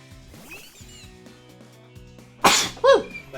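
One sharp, close sneeze bursts out partway through and is followed by a short breathy after-sound, over quiet Pokémon Scarlet game sounds and music.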